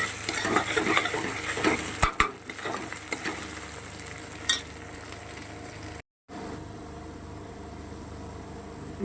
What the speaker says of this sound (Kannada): ಶುಂಠಿ ಬೆಳ್ಳುಳ್ಳಿ paste one table spoon add ಮಾಡಿದ್ದೀನಿ ಇದು ಹಸಿ ವಾಸನೆ ಹೋಗೋ ತನಕನೂ ಚೆನ್ನಾಗಿ ಒಂದು ಸ್ವಲ್ಪ ಫ್ರೈ ಮಾಡ್ಕೊಬೇಕು